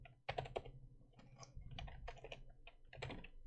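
Quick, uneven keystrokes on a computer keyboard, tapped close by in bursts with short pauses, with no voice over them.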